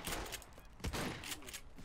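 Gunshots in a video game, a short spell of rapid, loud firing with one sharper blast midway, sounding close and mixed with the raised voices of players.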